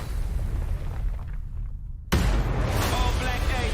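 A rocket explosion in a video game: a sudden loud boom cuts in sharply after a quieter stretch of low rumble, then rolls on as a dense burst of debris noise.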